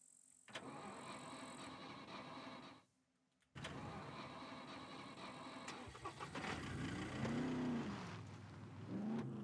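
Truck engine in the survival game SCUM cranking and catching, running at a steady idle, then cutting briefly before restarting and revving unevenly, loud and close.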